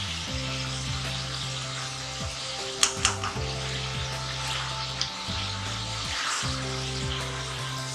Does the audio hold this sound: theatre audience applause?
no